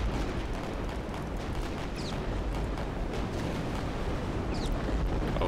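A torpedo volley launches during WW2 naval combat in the real-time strategy game Victory At Sea. It comes as a continuous low, rumbling roar with faint whooshing streaks.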